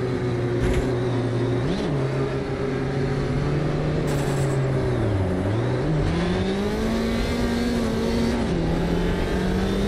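Ford Sierra Cosworth DTM race car at Willow Springs, its engine droning loud and close throughout with steady pitch shifts as it revs and changes gear, no talking.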